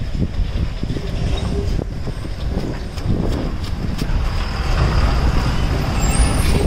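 Trucks pass on a road in heavy rain, a loud, continuous rumble of engines and tyres blended with the hiss of rain, swelling slightly toward the end.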